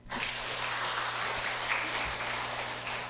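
Audience applause at a Korean church leaders' forum, a dense steady patter of many hands filling the room evenly for the whole stretch, with no voices over it.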